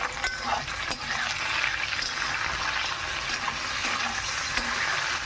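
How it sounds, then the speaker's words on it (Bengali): Cashews and raisins fry in hot oil for fried rice, a steady close sizzle and crackle with a few stirring scrapes, no voices. "কাজু কিশমিশগুলো ভালো করে ভেজে নেবো"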